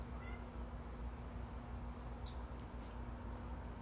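Semi-feral barn cats meow a few times, faint and somewhat distant, over a steady low background hum.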